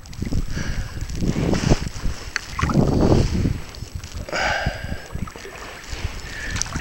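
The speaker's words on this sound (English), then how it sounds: "Going places I probably shouldn't go. Bushwhacking in a canoe." A canoe pushes through brush along the Missouri River near the U.L. Bend, with loud close rustling and scraping bursts against branches amid water and wind noise.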